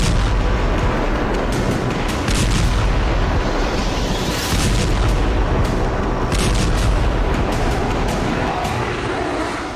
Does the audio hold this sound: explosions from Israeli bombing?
yes